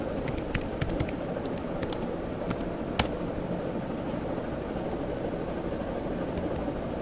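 Clicks of typing on a computer keyboard at a robotics workshop, irregular taps with one sharper key strike, over a steady low room hum.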